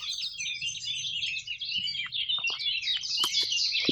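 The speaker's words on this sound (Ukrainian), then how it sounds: "пташки співають" Many small birds chirp and twitter continuously in a dense, overlapping chorus in the Slovak mountains, with a low background hum beneath.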